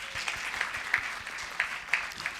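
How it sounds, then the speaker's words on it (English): A round of applause during a live-streamed program: steady, fairly soft clapping from a group, with a few sharper claps standing out near the front. "can we give a round of applause?"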